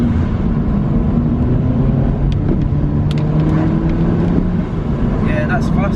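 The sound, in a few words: modified Audi TT accelerating in second gear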